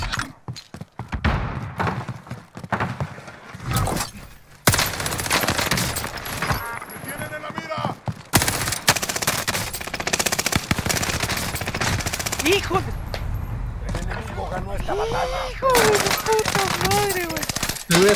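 Rapid automatic gunfire and bursts of shots from the Free Fire battle game, loud and dense through most of the stretch, with brief gaps and a few thuds, while voices talk and shout over it.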